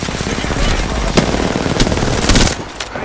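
Automatic weapon fire in the battle royale shooter Apex Legends, a few sharp bursts and single cracks over a dense, noisy game mix during a firefight.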